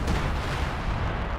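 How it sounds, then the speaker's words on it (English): Artillery barrage in the Company of Heroes 2 video game: a steady, dense rumble of distant booming fire that rolls on continuously at moderate level, with no voices. "You got an artillery barrage here."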